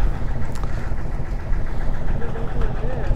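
A hired boat's engine on the crossing to Nainativu drones as a steady low rumble throughout, with wind and faint voices in the background.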